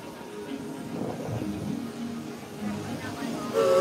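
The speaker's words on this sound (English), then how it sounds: "Comes the train" A train rumbles into a tunnel station at Walt Disney World's Magic Kingdom and draws closer, its low roar building over crowd chatter, with a brief squeal near the end.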